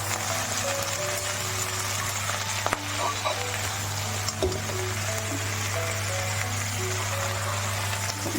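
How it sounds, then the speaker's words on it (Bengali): Leafy greens (shak) frying in a pan in a home kitchen, a continuous close hiss and crackle with occasional stirring clicks over a steady low hum. "শাকটা ভেজে নিচ্ছি"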